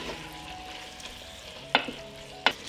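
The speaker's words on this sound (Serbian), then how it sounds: "Sve ću to promešati i propržiti zajedno 1 minut." Fresh peppers, tomato and garlic frying together in a pan with a steady low sizzle, broken by two short clacks of a spoon stirring the vegetables.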